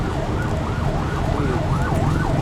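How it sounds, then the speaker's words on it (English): A police siren wails in a steady rising and falling cycle on a busy Bangkok street near Victory Monument, loud and continuous over the rumble of traffic. "So busy up here, just hear police sirens 24/7."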